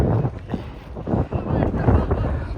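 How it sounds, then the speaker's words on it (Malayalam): Strong wind blows across the microphone on an open hillside at Vagamon, making loud, uneven low buffeting gusts that swell and dip throughout. "അടിപൊളി കാറ്റ്."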